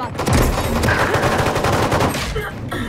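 Gunfire in the shooter Valorant rattles in a rapid, continuous burst of closely spaced shots, loud and near, lasting nearly three seconds before tapering off.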